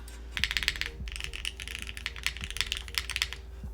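Typing on a Capy60 R2 60% mechanical keyboard, a steady run of crisp, close key clacks with a faint background hum and no talk.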